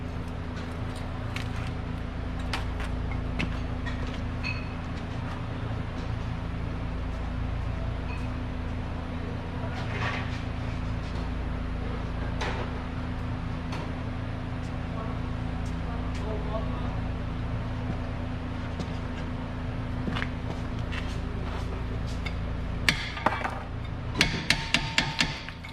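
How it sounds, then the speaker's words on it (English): Old brake pads being worked out of a 2016 Nissan Pathfinder's brake caliper, with a steady workshop hum and a few sharp metallic knocks and taps near the end, under occasional talk. "and pull the old pads out."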